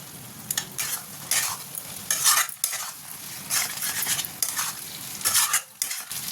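Potatoes and cauliflower being stir-fried in a pan, with a sizzling fry broken by repeated loud bursts of a utensil scraping and stirring against the pan, close and uneven in rhythm.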